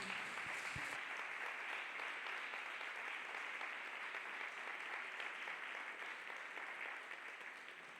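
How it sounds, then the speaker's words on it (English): A church congregation clapping hands for Jesus, a dense steady wash of many hands clapping together, sustained throughout and tapering slightly at the end. "Let us clap hands for Jesus, people of God"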